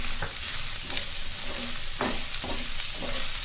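Carrots and other vegetables stir-fry over high heat for veg fried rice, giving a dense continuous sizzle with scraping spatula strokes and small clacks against the pan, close and steady, no voices.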